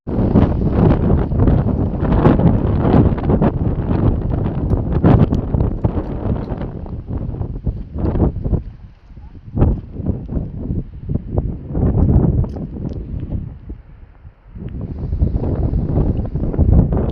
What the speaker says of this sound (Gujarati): પવન ફૂલ ચાલુ થઈ ગયો ને થોડા થોડા છાંટા ચાલુ થઈ ગયા છે.